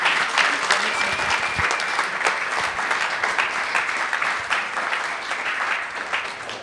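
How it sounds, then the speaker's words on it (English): A close, loud round of applause from an audience after a talk by a visiting doctoral speaker, with dense, even clapping holding steady throughout. "So can we get one more gigantic round of applause for Dr. McCauley?"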